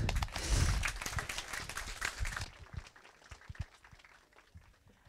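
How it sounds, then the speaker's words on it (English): Children applaud loudly to welcome a visitor, a thick burst of clapping and cheering that thins out and fades to scattered claps by the end. "Let's call her out with a big applause."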